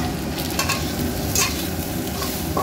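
Spice paste with bay leaf, cinnamon, cardamom and sugar fries loudly in hot oil, a constant close sizzle broken by a few scraping bursts as a spatula stirs the pan.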